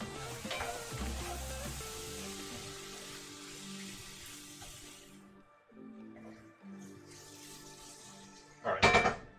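Food sizzles in oil in a pan while making chicken pot pie, a steady close frying hiss with occasional stirring and a clatter of utensils near the end.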